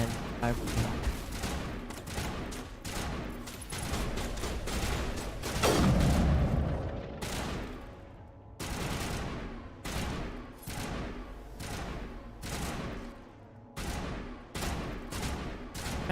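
Gunfire from cover in Mass Effect rattles in rapid bursts and sustained volleys, with a heavier boom near the middle, loud and dense throughout while a voice talks intermittently underneath.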